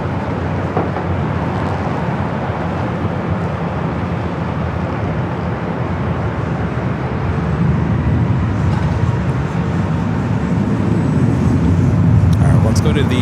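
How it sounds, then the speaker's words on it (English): An Airbus A220 airliner at LAX airport makes a loud, continuous broadband engine roar that swells slightly toward the end, with someone talking over it. "This Airbus A220 is never a happy plane."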